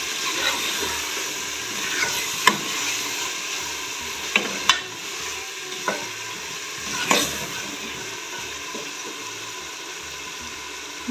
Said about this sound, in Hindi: दाल मैंने ऐड कर दी अभी उसको मिक्स करती हूँ अच्छी तरह दाल की बनाई करती हूँ